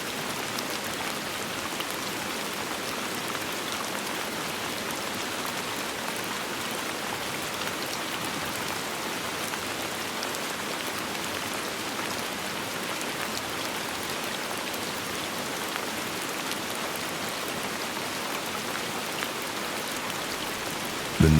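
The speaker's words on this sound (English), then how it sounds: "Rain falls softly beyond the window" Soft rain falls steadily outside a window, a gentle, even patter that continues without pause and with no voices.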